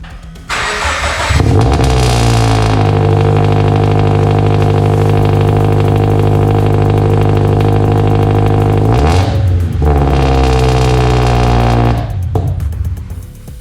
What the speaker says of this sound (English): So let's do a cold start, but you guys can hear it.